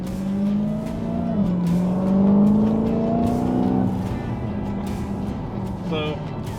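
A Dodge Challenger Hellcat Redeye widebody pulls hard under acceleration, its engine note rising steadily over several seconds, heard from inside the car with people talking over it.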